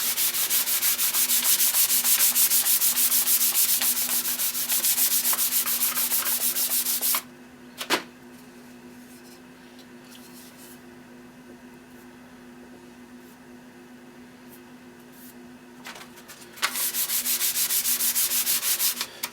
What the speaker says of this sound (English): I'm using a 3M sponge pad sanding block with the 220 grit paper on the face of it